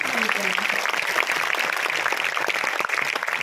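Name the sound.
audience applause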